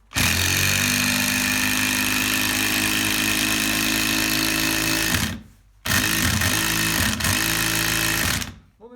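A DeWALT DCF887 impact driver drives a self-tapping screw into pine with loud, rapid hammering bursts, a long run, a short pause, then a second shorter burst with pitch wobbling as it seats.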